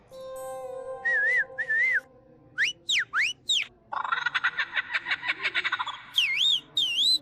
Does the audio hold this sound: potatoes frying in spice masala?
no